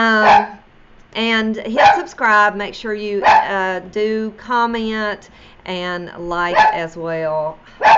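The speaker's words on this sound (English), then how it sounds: "So apologize for the dog barking in the background here." A dog barks repeatedly somewhere in the background, its sharp yaps recurring every second or so beneath a person's continuous close talking.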